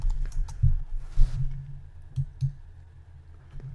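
Computer keyboard keys are tapped in a short, uneven burst of close, soft clicks, with a brief rustle partway through.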